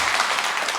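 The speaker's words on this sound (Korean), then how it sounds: "힘찬 박수로 부탁드릴게요" An audience at a Korean Catholic parish monthly meeting breaks into brief, dense applause. The clapping is loud and steady, with no talk over it.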